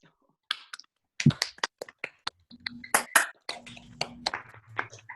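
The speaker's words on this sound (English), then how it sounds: "Never had an unmuted applause before" Scattered claps and taps from an online poetry reading audience after unmuting on a video call, arriving in uneven bursts rather than a full round, with faint voices mixed in.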